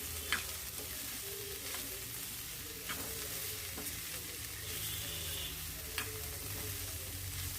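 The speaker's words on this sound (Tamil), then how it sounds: "நல்லா கிளறி விட்டுப்போம் பாவக்காய் வெங்காயம் ரெண்டும் நல்லா மிக்ஸ் ஆகணும்" Bitter gourd and onion sauté in a hot pan while a spoon stirs them. A steady sizzle runs beneath scattered sharp scrapes and clicks of the utensil against the pan, with no voices.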